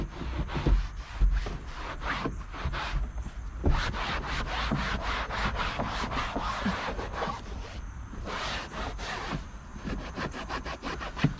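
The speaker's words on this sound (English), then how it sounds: "Gonna take our dry microfiber, just go over things." Dry microfiber cloth wiped across a smoke-stained car headliner, giving a steady series of close, brisk rubbing strokes with short pauses between passes, heard alone.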